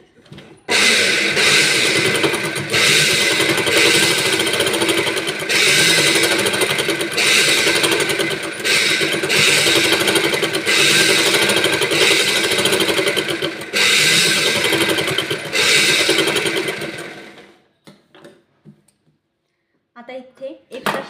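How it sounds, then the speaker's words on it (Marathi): Sewing machine running continuously while stitching the fitting seam of a blouse, a loud steady whirr with brief pauses, stopping near the end. "आता ही फिटिंगची शिलाई आपली"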